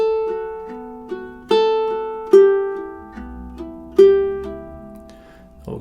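A ukulele plays measures 3 and 4 of Fernando Sor's classical Study in B Minor, with plucked notes and chords that ring and decay in a steady, unhurried rhythm, solo and close.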